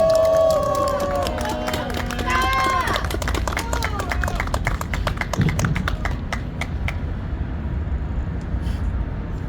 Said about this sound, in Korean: 이렇게 멋진 연설을 해주셔서 다시 한 번 더 박수